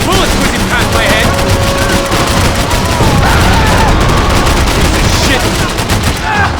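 Rapid gunfire bursts rattle continuously in Max Payne 3, loud and dense with overlapping shots and booms, while voices shout in the middle of the firefight.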